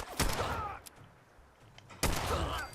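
Bursts of automatic rifle fire from enemies in Fallout 4, two rapid volleys with a quieter gap between them, loud and close with a crackling, echoing tail.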